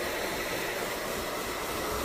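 A hair dryer blows continuously on short layered hair after a woman's haircut, giving a loud, steady, unbroken whoosh at close range with no speech.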